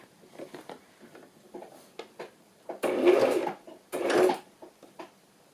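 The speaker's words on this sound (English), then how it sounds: "I think I might need to just do just a couple more stitches." A sewing machine stitches fabric for a journal cover in two short bursts of rapid, buzzing mechanical whirring, set among quieter clicks and handling noises at close range.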